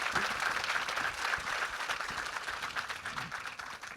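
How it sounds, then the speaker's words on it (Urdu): An audience at a live Urdu literary festival event applauds to welcome a speaker, a steady, dense wash of clapping from a sizeable crowd, moderately distant and continuous, with no talk over it. "زوردار تالیوں سے استقبال کیجیے"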